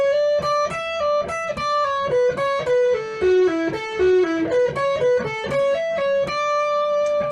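An electric guitar lick with a slightly distorted tone plays a run of plucked notes that step down in pitch and then climb back up, picked in a quick, uneven rhythm, close and clear with no voice over it.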